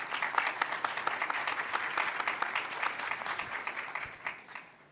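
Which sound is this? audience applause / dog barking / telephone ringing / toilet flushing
audience applause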